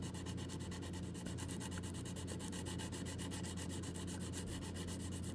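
Steady, continuous sanding on a scale model of the USS Enterprise D, a soft rhythmic rubbing that stays close and fairly quiet throughout with no talking.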